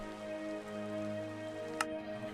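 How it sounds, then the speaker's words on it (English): Rain pattering steadily in a Minecraft roleplay game, an even wash of game rain over a low background tone with one brief sharp tick near the end and no talking. "can you see in the rain or no?"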